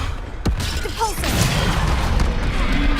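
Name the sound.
Depulsor spell impact in video game Hogwarts Legacy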